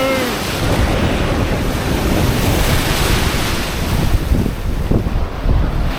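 Sea waves washing up and splashing over a seaside path in Latvia, a loud, close, continuous rush of surf mixed with heavy wind buffeting the microphone.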